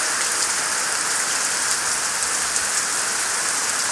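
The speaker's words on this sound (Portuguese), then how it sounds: "eu mostrando um pouquinho pra vocês da chuva" Heavy rain pours steadily onto a rural yard, a dense, even hiss of drops that stays loud and unbroken throughout with no voices.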